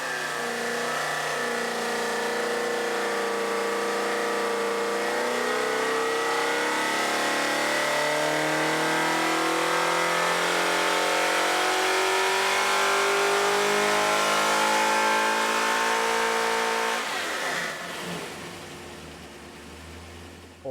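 A 5.3 LS hot rod engine on a dyno winds up in one long, loud, steady pull, its tone climbing continuously before it drops off abruptly near the end.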